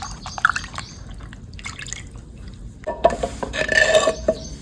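Fresh leafy greens are washed by hand in water, with irregular splashes, drips and sloshing. Quieter handling at first grows into busier, louder splashing near the end, with no voices.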